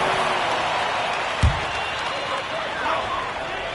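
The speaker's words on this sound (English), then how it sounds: "Give yourself a round of applause" Continuous crowd roar and applause in a basketball arena, a broad steady wash of clapping and cheering with a single sharp thud partway through.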